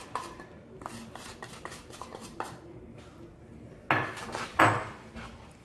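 A utensil stirring milk and rabdi premix in a heavy-bottomed pan, with light metallic clinks and scrapes in an uneven rhythm and two louder clanks near the end, no talking.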